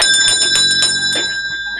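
A bright bell rings several times in quick succession, clear and close, then lets a ringing tone linger and fade out alone.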